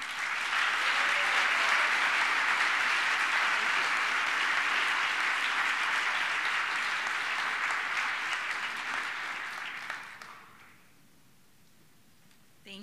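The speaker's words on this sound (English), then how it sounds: "Please give one last round of applause to our 2017 Ball State nursing graduates" Sustained applause from a ceremony audience honoring 2017 Ball State nursing graduates at their pinning ceremony, dense and even for about ten seconds, then quickly fading to near quiet.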